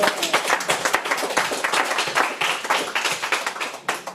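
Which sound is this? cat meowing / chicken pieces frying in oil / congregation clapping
congregation clapping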